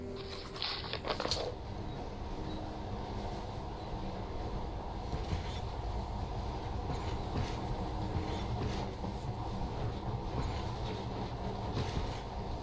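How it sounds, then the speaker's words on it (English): A monorail train in Metro Last Light rolls along steadily, a continuous low rumbling drone with faint rattles and a brief clatter at the start, alone without voices. "In the past, trains were ordinary things. But now, this monorail seems magic, doesn't it?"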